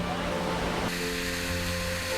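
A two-tiered waterfall in the Clue d'Amen canyon roars as a constant, dense rush of falling water, loud and close, with the tone shifting partway through.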